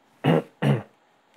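Two short, forceful throat-clearing rasps, close and evenly spaced, come from a driver inside a Vectra GT 2011 on the road, with near silence between and after them.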